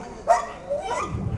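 A firefighters' search dog during a training exercise gives a couple of short, whiny barks or yelps at close range, with faint background noise and no talking.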